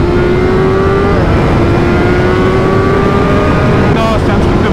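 A 2023 BMW M1000R four-cylinder motorcycle engine accelerates hard from up close, its rising pitch climbing steadily through the gears on a straight, with a rider's voice briefly audible over the loud roar.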